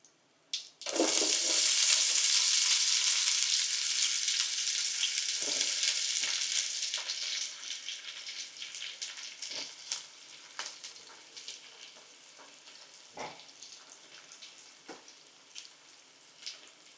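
Onions hit hot oil in a pan for Nellore fish curry with a loud, bright sizzle that gradually settles into a steady frying hiss, punctuated by occasional stirring clinks and scrapes.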